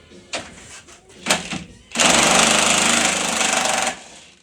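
A pneumatic impact gun hammers loose a large Torx bolt on a Jeep Wrangler front bumper, a dense rattling burst of about two seconds after a few short clanks and knocks.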